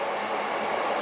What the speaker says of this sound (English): let's just wait until the subway passes